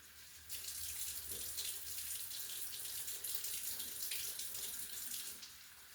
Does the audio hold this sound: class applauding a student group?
no